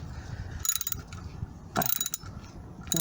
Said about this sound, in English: there's those sockets, or the bolts even, and my trusty ratchet